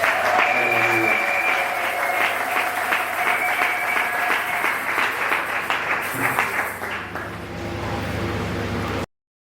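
A church congregation applauds during a service, with sustained, dense clapping close by and cheering voices mixed in, the applause thinning and fading toward the end.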